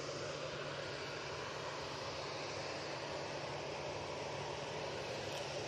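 A Ryanair jet departing Manchester Airport for Dublin sends out a continuous, moderately faint engine roar with a low steady hum, heard from a distance and without a break.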